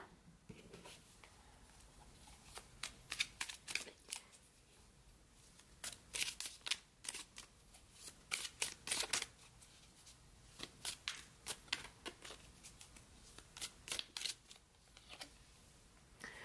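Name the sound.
shuffling tarot cards to draw a clarifier card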